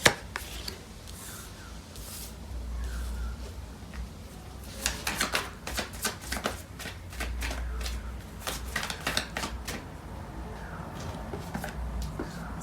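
Tarot cards being shuffled by hand make a run of quick papery riffles and soft taps, close and moderately loud, with bursts clustering in the middle stretch.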